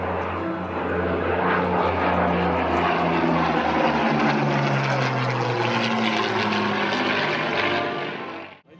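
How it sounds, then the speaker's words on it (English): A de Havilland Mosquito with twin Merlin engines makes a low-level pass at Warbirds Over Wanaka, its loud propeller drone holding steady throughout and rumbling close before cutting off at the end. "Left to right, folks, low level Mosquito."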